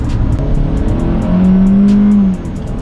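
A Hyundai Creta engine revs loudly under acceleration, its pitch climbing and holding before cutting off sharply near the end.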